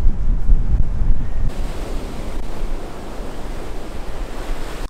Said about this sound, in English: I'm sure this wind sounds great because it's just absolutely roaring at us right now.